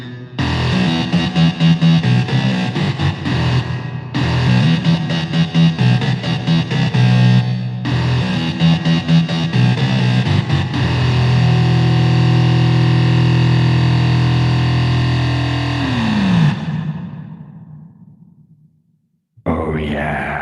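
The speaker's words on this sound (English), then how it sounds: "Gotta have some reverb though" Heavy, unexpectedly weighty music drenched in reverb plays loud and dense, with sustained distorted tones that ring out and decay into a long tail before fading to near silence, then a brief new burst at the end.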